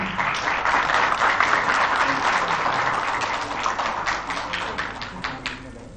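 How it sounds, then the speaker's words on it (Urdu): An audience at a team awards ceremony in Lahore claps in a dense, sustained burst that fills the whole stretch, easing slightly toward the end. "لاہور کے لیے بھرپور تالیاں."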